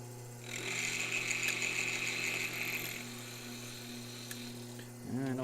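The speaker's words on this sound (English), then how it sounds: "Currently milling on a axle to turn it into a D-type." A milling machine cuts a flat into a metal airsoft gun axle to form a D-shaped shaft, giving a steady high whine with motor hum running nearly the whole time and easing off toward the end.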